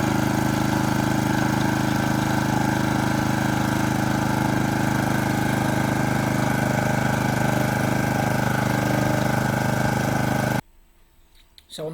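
A drilling machine works holes into a football pitch, its engine droning loud and steady with a constant vibration, then cutting off abruptly near the end and leaving quiet.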